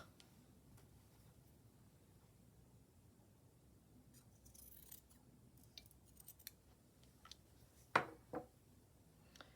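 Scissors cutting the bottom off a stitched fabric piece in a quiet room, a few faint snips building to two sharper close cuts near the end.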